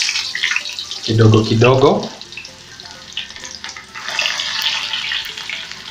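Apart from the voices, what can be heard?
onion rings frying in hot oil for goat biryani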